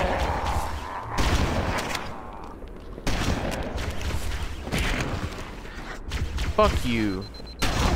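Loud shotgun blasts boom in quick bursts during Halo CE campaign combat, mixed with other game effects and a man swearing over the action.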